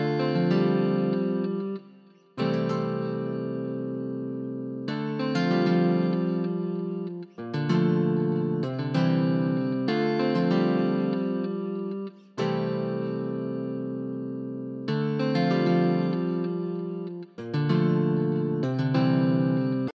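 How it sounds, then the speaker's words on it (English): Two stacked Flex guitars, one the Ace Nylon MK1 nylon-string with its low end cut, play an Afrobeats melody together in steady, loud repeating phrases that run almost without gaps, with no talking. "So together, these two guitars sound like this."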